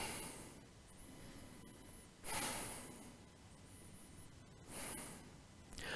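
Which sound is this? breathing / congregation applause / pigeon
breathing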